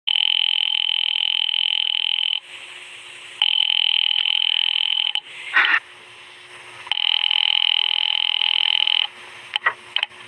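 An old-style telephone ring buzzes in long bursts separated by short pauses, loud and close, with a few clicks between rings.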